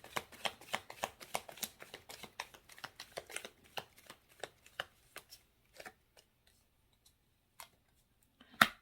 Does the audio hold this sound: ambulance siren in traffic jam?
no